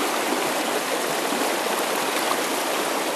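Raging, high-volume current of a dam-controlled Adirondack trout stream, a loud, dense and continuous rushing roar of water close by, steady throughout with no voices.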